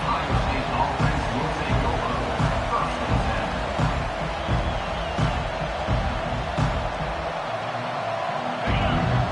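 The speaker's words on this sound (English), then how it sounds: "How about this crowd rattling the rafters and trying to help their defense?" In a College Football 25 game between Georgia and Ohio State, a stadium crowd roars in a steady, dense wall of noise with rhythmic swells, heard beneath a commentator's talk.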